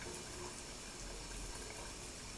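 Hot water runs from a tap in a quiet indoor room, a faint, steady hiss and trickle with no change and no talk over it.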